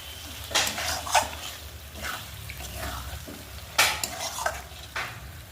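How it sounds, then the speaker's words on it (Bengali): Turmeric-and-salt-rubbed fish frying in a pan and stirred gently, a steady close sizzle under sharp scraping strokes of a spatula against the pan, with a few louder clatters and no talk. "দেওয়ার পরে এইভাবে আলতু করে কষে নেব মাছটা।"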